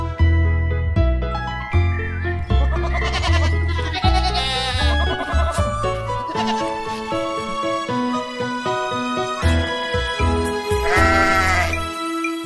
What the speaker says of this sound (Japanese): リトルボピップ杖を持ち、羊たちを探しに出た